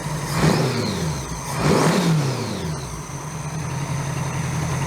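A 1982 Honda GL1100 Goldwing motorcycle engine fitted with a single-carb conversion idles steadily, with two throttle blips swelling and falling back early on, then settles into a continuous mid-pitched idle, loud and close with no talking.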